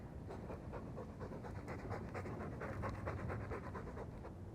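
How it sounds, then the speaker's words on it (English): A Mabari war dog from the video game Dragon Age 2 pants steadily and close by, with rapid rhythmic breaths that continue without a break and no talk over them. "All that noisy dog breath, day in, day out."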